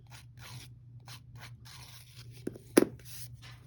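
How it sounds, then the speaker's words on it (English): Scissor blades scraping along the edges of paper card to distress them, a few short rasping strokes with one sharper crunch near the end, close and fairly quiet against a steady low hum. "you can use your scissors to distress, and you'll get the same effect"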